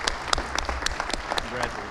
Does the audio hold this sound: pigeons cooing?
no